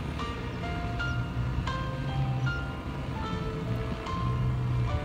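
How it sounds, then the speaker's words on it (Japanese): A Scout motor paraglider engine runs with a smooth, steady drone, heard continuously at moderate loudness with other tonal sounds layered above it. "エンジンの音が超スムーズですね。"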